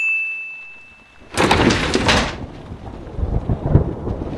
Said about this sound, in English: It's raining in Portland cliché.